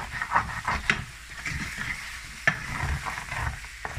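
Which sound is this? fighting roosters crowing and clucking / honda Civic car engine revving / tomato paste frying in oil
tomato paste frying in oil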